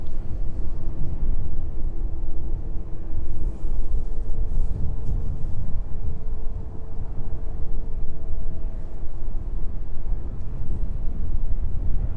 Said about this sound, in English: Definitely hear those engines starting up in the distance.